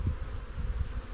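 Honey bees hum at an open hive during an inspection, a soft, low, continuous buzz that swells and fades slightly.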